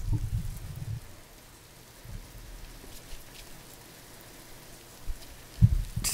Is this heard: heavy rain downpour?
yes